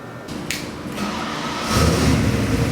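A 408 cubic inch Chrysler small block crate engine cranks with a couple of starter bursts, then catches and settles into a loud, close, rumbling idle.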